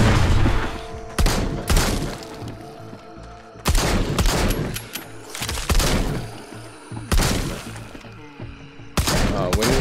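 Gunfire and exploding barrels in the VR zombie shooter Arizona Sunshine: repeated loud bursts of shots and booming blasts in clusters, with brief gaps between volleys and no talking.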